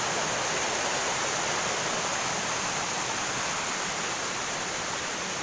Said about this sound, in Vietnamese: Thác vẫn đang lao xuống, rất là đẹp luôn.